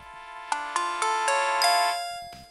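Startup melody of a Siemens SL55 mobile phone, a bright chiming ringtone-like sequence of several rising notes lasting about two seconds, loud and clear with nothing else over it, followed by a faint rustle.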